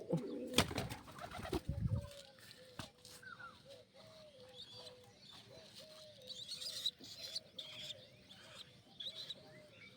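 Two pigeons coo softly and repeatedly nearby as they are fed, after a few loud rustles and knocks at the start.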